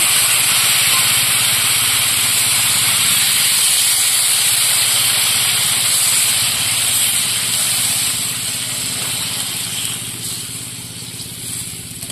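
Spice paste water poured into a pan of sizzling village-style chicken curry with potatoes, giving a loud, steady hissing sizzle that eases slightly toward the end, with no voices.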